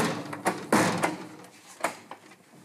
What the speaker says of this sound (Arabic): خبط يا ابني وخلص.